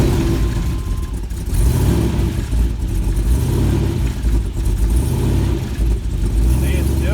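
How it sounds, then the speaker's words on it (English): A car engine fitted with an Elgin 1838P 216/220 cam, set to about an 800 rpm idle, rumbles loud and close with a choppy, uneven lope and slight rises in speed. "let's see if how much of an idle flare we're gonna have today"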